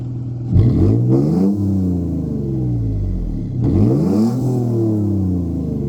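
A V6 engine revs twice, each time climbing sharply then sliding back down through a loud, close rumbling idle, with the second rev a few seconds after the first.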